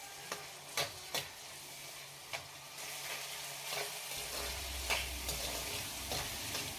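A spoon stirs chopped tomato, turmeric and chopped coriander in a hot pan of oil for matar poha, giving soft scraping and a faint sizzle with a few sharp clicks against the pan.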